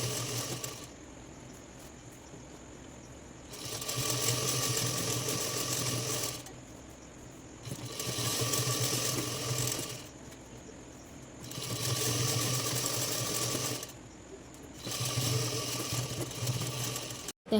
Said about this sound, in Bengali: বুড়ো আঙুল দিয়ে চেপে দিচ্ছি, দিয়ে সেলাই করে নিচ্ছি একদম ধার দিয়ে